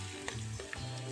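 Garlic sizzling in hot oil in a pan for a budget sweet and sour tofu dish, a steady close frying hiss with faint stirring scrapes and no voices.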